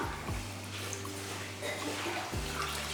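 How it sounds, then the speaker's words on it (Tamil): Roughly a quarter litre of water is poured into a pot for payasam, a steady close splash and trickle with a low hum running beneath it; no one speaks. "இப்போ நம்ம ஒரு 1/4 லிட்டர் அளவுக்கு தண்ணி ஊற்றிடலாம்"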